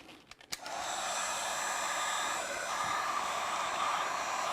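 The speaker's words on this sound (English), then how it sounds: "gently moving the heat gun back and forth across the top of the epoxy" A heat gun warming an epoxy surface to pop bubbles starts with a few clicks and then settles into a steady, close airy whoosh like a hair dryer, blowing continuously without talk.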